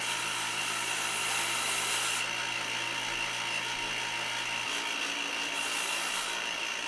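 A table saw cuts wood for a lift-lid Christmas box, a loud, steady whining buzz of the blade running through the stock without a break, close up, with the tone shifting slightly partway through.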